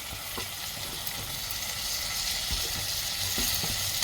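Onion, tomato and garlic cloves fry with asafoetida in a pan for a brinjal potato side dish, producing a loud continuous sizzle with scattered stirring clicks and no talking.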